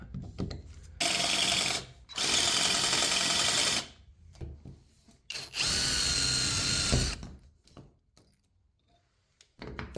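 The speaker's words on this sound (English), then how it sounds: "So the next thing we're gonna try is to drill this out." A power drill whirs loudly in several bursts of one to two seconds, drilling out a rusty screw on a truck topper handle, separated by short pauses and quieter grinding.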